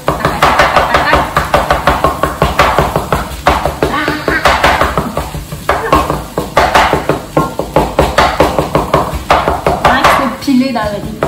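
Spatula or utensil repeatedly chopping and scraping eggs into small pieces in a pan of Cantonese fried rice, a brisk steady rhythm of loud close taps and clatter, with voices talking in the background.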